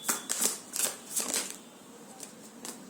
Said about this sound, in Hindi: I'll take 3 cards.